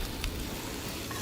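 Chopped onions dropped into a touch of olive oil in a hot pan, a steady close hiss of sizzling filling the short moment with a brief clatter near the start.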